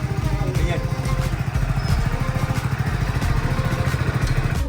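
A motorcycle engine runs steadily nearby with a rhythmic, low chugging pulse during a village celebration, continuous across the whole stretch with voices talking over it.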